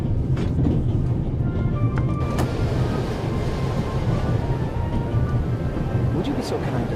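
A train rolling steadily on rails in the adventure game The Raven, a continuous rumbling clatter with faint squeaks and metallic ticks, heard from inside a carriage and close by.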